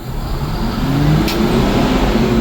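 An Amertek 4x4 fire truck engine runs wide open in pump mode with its PTO engaged, a loud steady high-rev roar with a faint rising whine.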